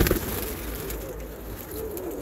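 Armenian pigeons kept in France coo softly and continuously at close range, a low throaty murmur over faint background noise.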